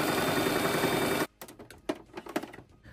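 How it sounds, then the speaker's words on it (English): Sewing machine stitching binding tape onto a doll-sized skirt, a dense buzzing run for just over a second, then stopping, followed by scattered light clicks and handling taps. "I think I'm gonna sew this on one of these skirts"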